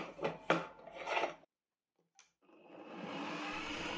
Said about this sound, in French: Elle a besoin d'un perçage de 100 mm que je vais effectuer à la scie cloche sur une perceuse à colonne